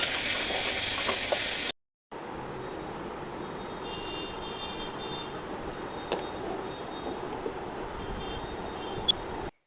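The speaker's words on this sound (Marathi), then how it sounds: "थोडंसं जिरा, हिंग, कढीपत्ता सर्व टाकून फोडणीपैकी मस्तपैकी सर्व मसाल्यांची फोडणी देते" Cumin, asafoetida and curry leaves sizzle in hot oil for a tempering, giving a steady, close frying hiss that runs almost the whole time, with a brief silent cut near the start.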